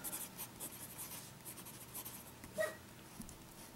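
A Fountain Pen Revolution Himalaya fountain pen with a medium nib writes on paper, giving soft, close scratchy strokes in short bursts with brief pauses in a quiet room.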